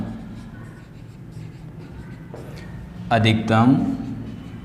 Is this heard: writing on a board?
yes